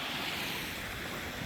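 A river flows beside a tent pitched near Corryhully Bothy in Glenfinnan, Scotland, a steady broadband rush of water with some wind noise, continuous and fairly close with no talking.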